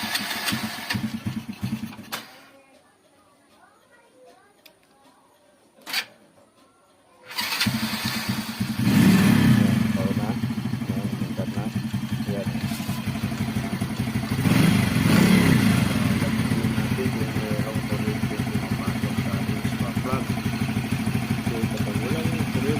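A remote-started motorcycle, fitted with an LED spark plug cap, cranks and catches after a short near-silent pause, then settles into a loud, steady close-up idle with a rhythmic mechanical clatter that continues to the end.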